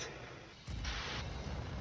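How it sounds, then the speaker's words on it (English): In Star Citizen, a sudden deep boom erupts after a quiet moment, followed by a sustained rumbling roar and crackle of a large explosion. "Another nice explosion."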